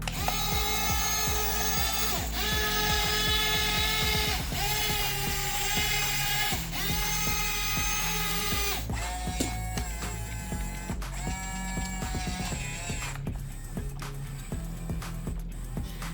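A cheap remote-control excavator from AliExpress running through its automatic demonstration routine, with a loud, continuous whining motor that rises and falls in pitch as it switches between movements, alone without speech.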